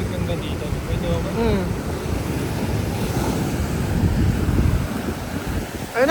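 Sea waves on the coast of Japan wash in a continuous rushing roar, mixed with heavy wind buffeting the microphone, while people talk and call out over the surf.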